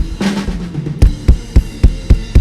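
Ungated snare drum in a band mix, hit about six times in a steady rhythm after a brief muddier opening, each loud punchy crack trailing into a ringing tail, no talk.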